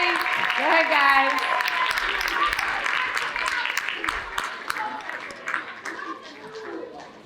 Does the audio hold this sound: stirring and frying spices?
no